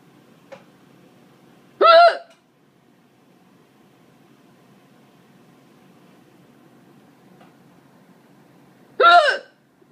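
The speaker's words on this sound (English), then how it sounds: "This is the cat listening to me hiccup." A person hiccups twice, each a short sharp voiced gulp about seven seconds apart, close and clear in an otherwise quiet room with faint background hum.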